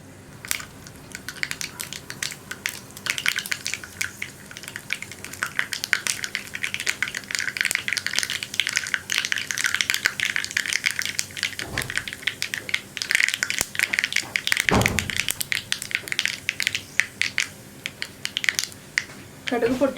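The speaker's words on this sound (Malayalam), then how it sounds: "കടുക് പൊട്ടി കഴിഞ്ഞുകൊണ്ടിരിക്കുന്നുണ്ട്." Mustard seeds pop and crackle in hot coconut oil in a pan while a Kerala tomato curry is being made: a dense, continuous spatter of sharp little crackles, close and steady, with a few louder bursts.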